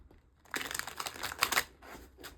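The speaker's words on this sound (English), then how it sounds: "I'm going to just give this a quick few little shuffles" Tarot cards being shuffled by hand in a few quick bursts, with crisp papery riffling and crinkling, close and moderately loud after a short quiet start.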